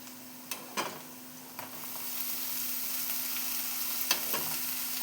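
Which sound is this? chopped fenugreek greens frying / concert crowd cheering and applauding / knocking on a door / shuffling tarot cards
chopped fenugreek greens frying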